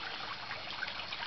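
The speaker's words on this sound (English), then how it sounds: "here we have my stream. Comes from the upper pond and from the dock biofilter" Water trickles and splashes steadily down a garden stream fed from an upper koi pond and biofilter, a continuous bright gurgling flow heard close up with no voices.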